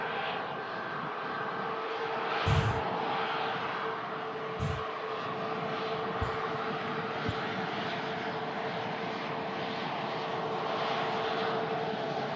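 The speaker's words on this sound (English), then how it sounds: "Aircraft arriving in from Poland as the Virgin Atlantic lines up behind" A passenger aircraft arriving from Poland at Manchester Airport on a cold winter day, its engines a steady distant roar over a constant broadband hum, broken by a few brief sharp knocks.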